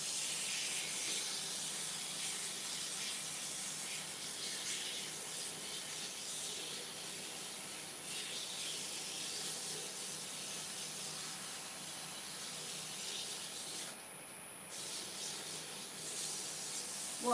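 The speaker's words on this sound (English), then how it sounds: "And as I'm sanding and feeling with my fingers, it lets me know how it's getting on," Steady, close-up 120-grit sandpaper rubbing, a continuous hissing scrape that runs on with slight pauses and changes in pressure, no voices.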